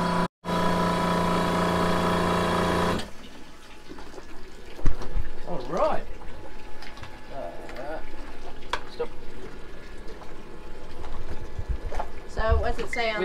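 Steady mechanical hum of a Rainman watermaker pump running throughout, with a person talking over it at close range.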